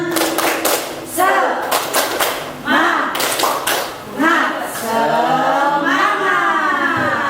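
A group clapping out a rhythmic spirit clap at a positive-culture school activity in Cilacap, sharp bursts of claps in quick patterns alternating with voices chanting along, fairly loud and close.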